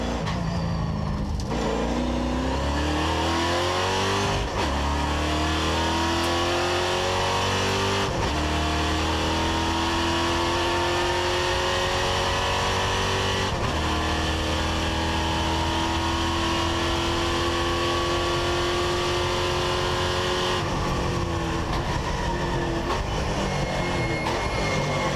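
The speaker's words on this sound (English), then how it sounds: "Let's ride on board with Gabellini, the Cal racing driver." NASCAR Whelen Euro Series race car engine heard onboard at Monza, loud and continuous, climbing in pitch through each gear with several sharp shifts and braking drops.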